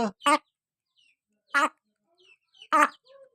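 A hen gives three short, clear calls spaced a second or so apart, close and distinct against near silence.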